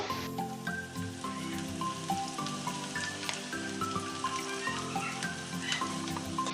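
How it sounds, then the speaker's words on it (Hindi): Dry fruits for sheer khurma frying gently over a low flame, a steady soft sizzle with faint crackles running continuously under background music tones, no voices. "पहले हम ये ड्राई फ्रूट्स फ्राई करेंगे"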